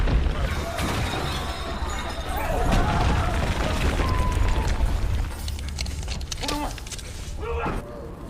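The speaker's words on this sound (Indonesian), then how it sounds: "ternyata lantai-lantai mulai hancur" Floors of a burning high-rise tower collapse in a continuous, roaring crash of breaking debris. Scattered shattering impacts rise and fall over a dense rumble.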